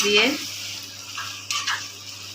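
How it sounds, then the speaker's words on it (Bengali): Fried shrimp stirred in a frying pan give a few quick scraping strokes over a light sizzle, close by, with a short stretch of voice at the start. "ভেজে রাখা চিংড়ি মাছ দিয়ে দেব। ভালো করে নেড়ে নেব চিংড়ি মাছ"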